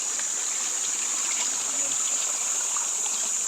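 A creek stream flowing steadily, a constant broad rushing and trickling wash with a high insect-like hiss over it, continuous and fairly close.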